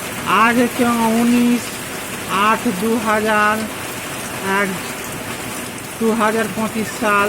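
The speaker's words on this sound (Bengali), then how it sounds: "দেখছেন কি মুষলধারে বৃষ্টি পড়ছে।" Heavy monsoon downpour with storm winds pouring steadily as a constant wash of rain noise, partly masked by someone talking over it.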